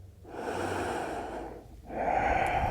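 A full breath during a yoga flow: a long audible inhale, a short pause, then a strong breathy exhale, close and fairly soft.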